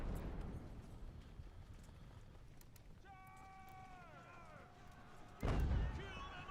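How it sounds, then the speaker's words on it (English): A faint drawn-out descending whistle or cry fades out, followed by a sudden loud booming blast, amid low rumbling background noise: a video game cannon firing canister shot in an American Revolution battle. "now they're shooting canister at me"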